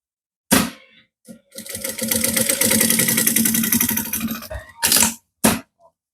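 A sewing machine stitches a strap onto a sublimated A4 bag measuring 35x25x10 cm, giving a loud, close, steady mechanical whir for about three seconds, framed by short start-and-stop bursts.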